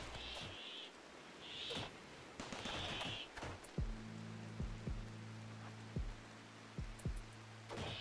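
Rain falls softly and continuously in the video game Rimworld, with repeated high bird-like calls and scattered low thuds and knocks over the steady patter.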